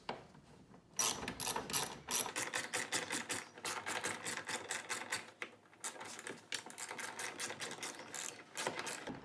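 A ratchet loosens the 8mm bolts holding a car's brake light, a near series of rapid clicking bursts with short pauses between strokes, moderately loud and with no talk over it.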